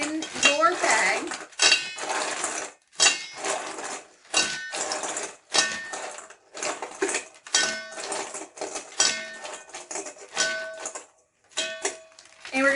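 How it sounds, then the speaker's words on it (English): Ice cubes clatter into a plastic bag for homemade ice cream, a rapid run of hard clinks and rattles in uneven bursts with short pauses, close and fairly loud. "I've got my 4 cups of ice measured. So you can go ahead and put that in your bag."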